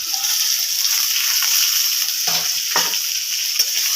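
Fried vegetables are stirred into a spiced pan, giving a continuous loud hiss of sizzling oil with a few scraping strokes of the spoon.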